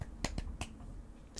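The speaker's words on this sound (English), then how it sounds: "Can I do the naughty clap?" Several sharp, snappy claps, a quick cluster of three followed by one more after a short gap, sounding close but fairly soft against a quiet room.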